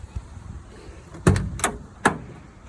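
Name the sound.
Porsche 968 race car passenger door opening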